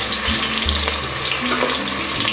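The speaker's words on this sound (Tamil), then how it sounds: "இப்போ இந்த சின்ன வெங்காயம் போடுறேங்க" Small onions sautéing in a pan of hot oil while cooking coconut rice, a loud, dense, continuous sizzle with occasional stirring scrapes, close up and with no voices.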